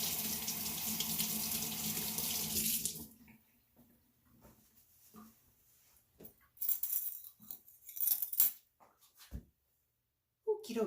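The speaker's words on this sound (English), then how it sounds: "let me just wash my hands real quick" Hands washed under a running kitchen sink tap: a loud steady gush of water for about three seconds, then it stops, leaving faint clinks, drips and handling noises.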